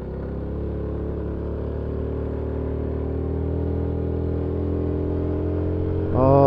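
A Yamaha MT-125 motorcycle rides along roads around Paignton and Torquay, its engine droning as a steady low rumble heard from the rider's position, rising slightly near the end with a brief brighter burst.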